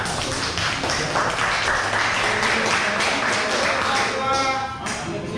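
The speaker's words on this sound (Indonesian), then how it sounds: "Tepuk tangan untuk semuanya" Sustained classroom applause fills the room, steady dense clapping from a group of students carrying on for several seconds at even loudness, with some voices mixed in underneath.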